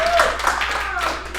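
An audience at a live comedy show claps for a comedian stepping on stage, a short burst of applause heard up close while a voice talks over it.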